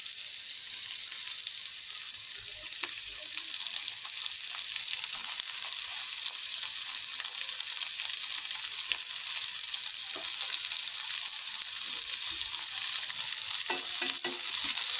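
Chopped tomatoes go into a pan of fried onions, setting off a steady close sizzle with faint stirring scrapes and crackles that holds evenly for about fifteen seconds, with no talk.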